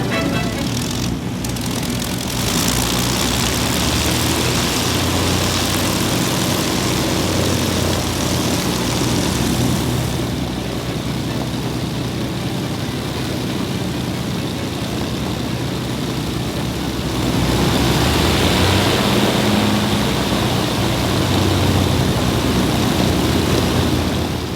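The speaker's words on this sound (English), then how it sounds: "You get to see an old bomber plane firing up their engines." Loud, steady roar of a Lancaster bomber's piston propeller engines starting up close by, a broadband drone that swells slightly louder toward the end.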